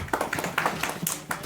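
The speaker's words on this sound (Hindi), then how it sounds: "उनके इस्तेक़बाल में ताली" Brief audience applause at an experience-sharing session in Kargil, a short burst of scattered hand clapping welcoming a speaker to the stage.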